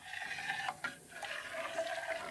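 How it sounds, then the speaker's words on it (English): White vinegar poured into warm milk heated to 110 degrees for homemade pot cheese, a steady trickling, splashing pour running close and continuous for a couple of seconds. "I'm going to pour the vinegar in there."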